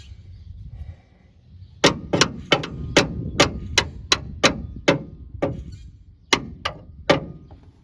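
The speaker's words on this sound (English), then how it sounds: "put your screwdriver in the center of your bolt and then you hit it" A screwdriver is hammered against a radius arm bushing bolt on a rusty vehicle. About a dozen sharp metallic blows ring out in a fairly even rhythm, close and loud, with a short pause before the last few strikes.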